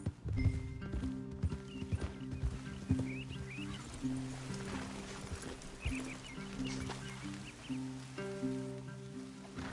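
Horses in the video game Red Dead Redemption 2 clip-clop steadily across the ground, hooves falling in an uneven rhythm at moderate distance, with a brief whinny and soft ambient background.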